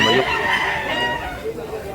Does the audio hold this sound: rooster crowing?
yes